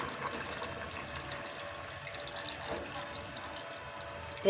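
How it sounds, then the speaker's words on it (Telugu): Tamarind broth is poured into a cooking pot with shrimp and eggs, making a soft, steady liquid splashing and trickling sound close by. The pour is faint and continuous, with no talking. "ఇప్పుడు పులుసు వేస్తున్నాం చూడండి ఇది పులుసు అండి"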